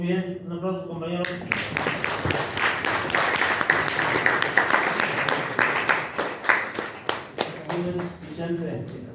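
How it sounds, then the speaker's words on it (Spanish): Classmates in a school classroom clap together after a presentation, a burst of mixed applause that turns into rhythmic, spaced individual claps toward the end, with a voice speaking at the start and again as the clapping dies down. "Muy bien, un aplauso, compañeros."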